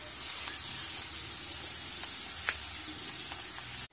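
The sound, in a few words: onions frying with curry leaves in a pan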